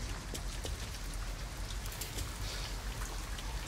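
Steady rain in the video game Detroit: Become Human patters down, a dense hiss of drops striking surfaces with scattered louder splashes, continuous and fairly close, no voices.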